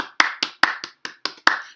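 A single person claps seven times in a quick, slightly uneven rhythm, sharp and close, with no other sound between the claps.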